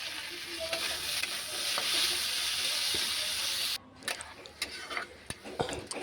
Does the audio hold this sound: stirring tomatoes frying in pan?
yes